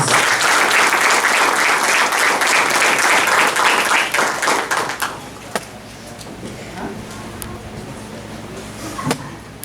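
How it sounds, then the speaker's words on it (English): A graduation audience applauds loudly, with dense, sustained clapping that thins out around the fifth second into a quieter hall with scattered knocks and a few stray claps. "Give them a big round of applause, please."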